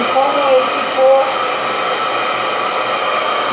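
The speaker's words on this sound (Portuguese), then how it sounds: "Só vou secar o cabelo. Não vou passar prancha." A handheld hair dryer blows air while hair is dried after a relaxer treatment, giving a steady broadband whoosh that runs nonstop at close range, with a faint tonal whine near the start.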